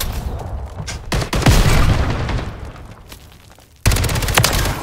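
Call of Duty gunfire with an FJX Horus weapon: loud, close bursts of rapid shots and booming impacts, a dense volley that fades, then a sudden fresh loud burst.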